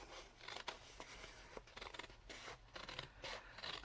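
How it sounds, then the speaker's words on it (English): Scissors trim a watercolor Thanksgiving card in small snips, with repeated close crisp cuts and faint paper rustling in an irregular rhythm at a quiet level. "I'm just going to leave it and cut it."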